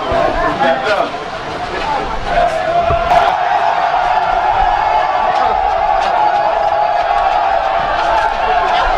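A dense crowd cheers and roars at a rally in Nigeria, a loud continuous swell of many voices with shouts rising above it throughout.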